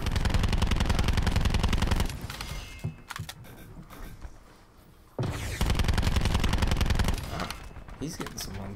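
Assault rifle gunfire in Black Ops 4, long loud bursts of rapid automatic fire broken by a quieter stretch of shuffling and clatter, with a voice talking over the game.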